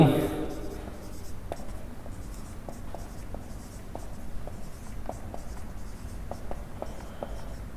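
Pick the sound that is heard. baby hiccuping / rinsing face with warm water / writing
writing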